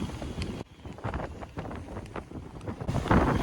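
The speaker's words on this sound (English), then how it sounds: "You can hear the wind whistling through the rigging." Strong gusts blow across a sailboat under jib alone in mid-20s winds off Norway, buffeting the microphone in rough bursts with faint whistling from the rigging and water noise underneath.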